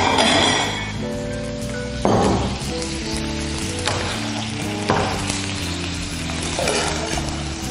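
Meat sizzles loudly in a hot oiled pan, a dense crackling fry that surges every couple of seconds as the pieces are moved, with a steady hum running underneath.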